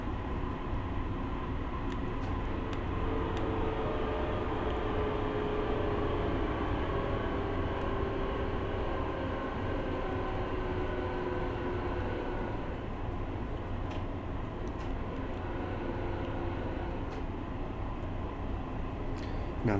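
A Long Island Rail Road train in the Train Sim World game coasts along the line, a steady broadband rumble with low tonal hums and faint brake-like squeals, continuous and fairly loud throughout with no talking.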